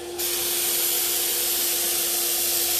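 A paint sprayer steadily sprays metallic paint onto a furniture top, a continuous close, loud hiss with a steady tonal hum underneath, starting just after the onset and running unbroken throughout.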